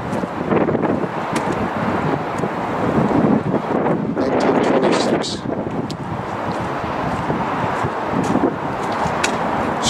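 Strong wind blowing outdoors on a street in Belfast roars steadily across the microphone, a loud, continuous buffeting rush with gusts throughout and no break.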